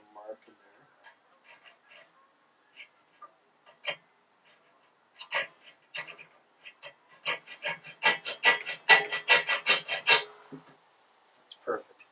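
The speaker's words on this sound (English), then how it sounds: "Just going to put a little mark in there." A file rasps a mark into a steel shovel blade held in a vise, starting with sparse, scattered scrapes and building into a run of rhythmic strokes, close and crisp, with no talking.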